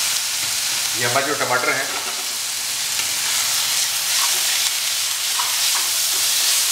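Three chopped onions hit hot oil for Kolhapuri chicken and fry with a loud, steady sizzle that continues throughout, with someone talking briefly early on.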